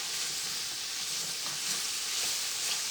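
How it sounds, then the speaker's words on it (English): Carrots and onions saute in a pan for beef bourguignon, giving a close, continuous hissing sizzle with faint stirring underneath and no voices. "We're sauteing our carrots and our onions."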